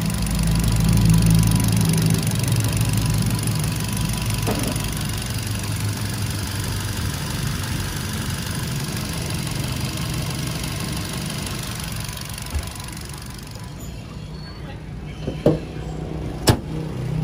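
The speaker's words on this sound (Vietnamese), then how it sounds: "có thể nghe và cảm nhận về cái chiếc uh, uh, động cơ của xe này" A 2015 Kia Morning 1.25 manual car engine idles close by with a steady low rumble, followed by a few faint clicks and taps toward the end.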